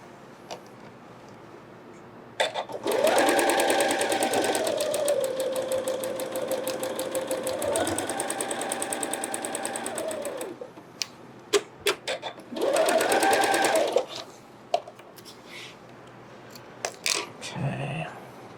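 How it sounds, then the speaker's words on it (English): A sewing machine stitches quilt block pieces in two runs: a long steady burst of rapid whirring with a pitch that rises and dips, a pause with small clicks and handling noises, then a shorter burst. "let's go ahead and sew those."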